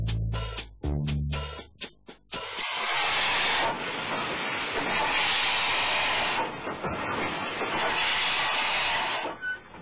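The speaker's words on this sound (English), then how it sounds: "These triumphant monsters, as Charles Dickens preferred to call these steam engines" A steam locomotive gives a few rapid puffs, then long, loud bursts of rushing steam hiss that swell and fade, close and forceful.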